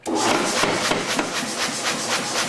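A hammer strikes a piece of wood in a rapid, steady run of sharp knocks, loud and close, with a bright scraping rasp under each blow.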